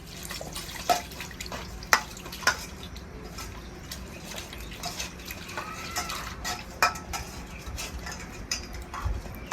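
Water poured over a whole hilsa fish being washed in a home kitchen, with steady splashing and scattered drips and clinks of a pot or dish, moderately close, no talk over it.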